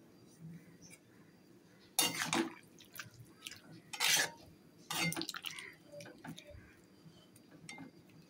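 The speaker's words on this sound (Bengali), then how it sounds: "এবারে গরম জলটা দিয়ে দিয়েছি। গরম জল দিয়ে একটু নাড়াচাড়া করি।" Prawns and vegetables stirred in a pot after hot water is added, with three bursts of wet sloshing and utensil scraping against the pan amid quieter clinks, close by, with speech alongside.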